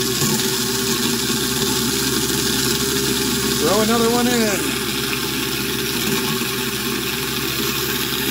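A kitchen garbage disposal unit runs with the tap water on, a steady mechanical hum filling the clip, with a brief grinding surge partway through as scraps go in; a person speaks briefly over it.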